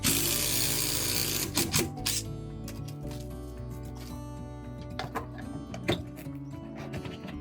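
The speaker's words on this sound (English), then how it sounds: "In the end, we decided to fix it with screws." A power tool drives screws into a rotten, water-damaged exterior wall, whirring in short bursts with clicks and knocks, loud at the start and then intermittent.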